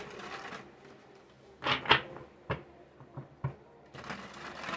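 A deck of tarot cards being shuffled, with several quick riffling bursts and soft slaps of cards close up, quiet and without speech.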